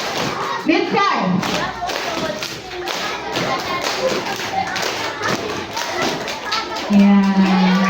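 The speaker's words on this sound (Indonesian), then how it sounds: "Ya, tepuk tangan." Schoolchildren clap at an elementary school police visit, scattered taps and thuds mixed with kids' voices and an adult speaking, the clapping uneven and close against a busy room.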